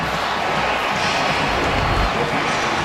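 A packed stadium crowd roars continuously at the Iron Bowl, Auburn versus Alabama college football, a dense, loud wall of cheering that swells slightly toward the middle.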